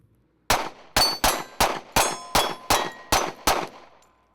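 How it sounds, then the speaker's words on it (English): Nine sharp, loud pistol shots from a Springfield XDM 3.8 Compact in .45 with a short grip and smaller magazine, fired at a steady, fairly quick pace, each crack ringing out briefly; no talking. "Why don't you show us shooting this gun with the smaller mag, shorter grip, see what that looks like."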